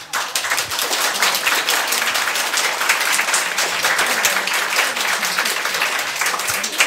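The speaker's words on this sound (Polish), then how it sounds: "Myślę, że też się brawa dla pani należy." Audience applause at a Women's Day event held at a foundation, a steady, dense clapping from many people that stays loud and even for the whole stretch, with no voices over it.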